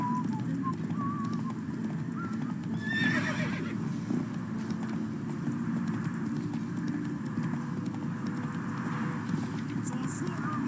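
Roach, Geralt's horse in The Witcher 3 video game, gallops with a steady rhythmic clip-clop of hooves, a whinny rising briefly near the start, while voices speak intermittently over the hoofbeats.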